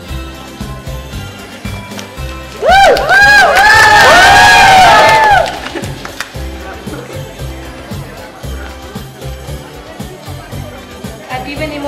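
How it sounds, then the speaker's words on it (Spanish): Shepherds at a live outdoor nativity scene in Tlachichuca burst into joyful shouting and cheering, a loud crowd of voices rising together for about three seconds amid ongoing chatter. "Todos los pastores gritan de júbilo y se acercan al nacimiento viviente."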